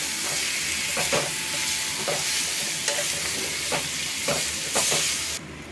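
Beaten egg poured over vegetables in a pan for chapati noodles and stirred, a continuous loud hissing sizzle with scattered spatula scrapes every second or so, heard up close without any speech.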